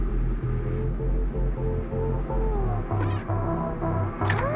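A cat meows in the indie video game Gato Roboto, a few loud meows rising over a steady pulsing game soundtrack, no speech.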